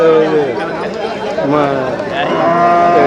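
Kangeyam native bulls at the Melapalayam cattle market give drawn-out, sliding lowing calls, several overlapping, amid constant crowd chatter and nearby voices of traders talking.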